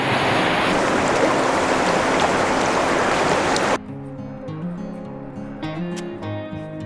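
Rushing water of a mountain river being crossed in the Humboldt Mountains' glacial alpine valleys, a loud steady wash for about four seconds, then quieter close splashing and trickling.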